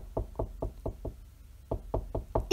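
Woodpecker pounding on a roof, rendered as a knocking effect: a run of five sharp knocks, a short pause, then four more, close and fairly loud with no talking.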